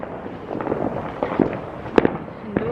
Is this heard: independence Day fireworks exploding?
yes